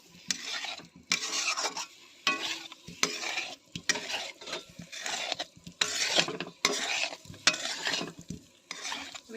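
A spoon stirs and scrapes potatoes coated in spice paste in a pan for potato dum, in repeated rhythmic strokes with soft sizzling underneath, close and moderately loud, no talking.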